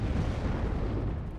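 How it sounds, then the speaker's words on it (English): Steady low rumbling booms like distant artillery or explosions roll on continuously in the background, loud in the bass and without pause or voices. "I apologise for the explosions in the background."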